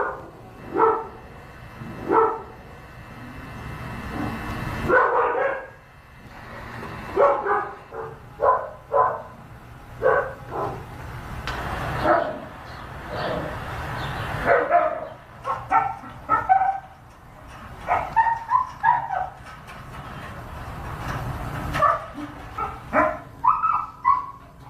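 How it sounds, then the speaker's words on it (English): Dogs bark again and again through the night, loud bursts coming in irregular clusters with short yips and whimpers, and no voices anywhere over them. "These are some times that they've been barking, day and night."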